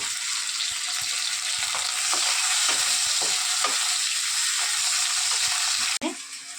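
Tomato frying in a pan gives a steady, close sizzle with soft stirring scrapes and clinks throughout, then a brief knock near the end.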